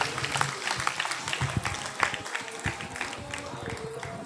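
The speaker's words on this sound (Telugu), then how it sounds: "ఆ దేవాది దేవునికి గట్టిగా, ఆయనకి వినపడేటట్టుగా గట్టిగా మరి చప్పట్లతో కృతజ్ఞతలు తెలియచేద్దాం" A Catholic congregation at a Sacred Heart of Jesus feast in Eluru applauds loudly, dense steady clapping from a large crowd filling the space for several seconds, with voices mixed in.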